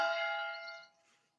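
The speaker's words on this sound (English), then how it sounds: "They're ringing the bells, baby." A single bell strikes once with a bright metallic tone and then rings out, its harmonics fading over about a second, close and fairly loud.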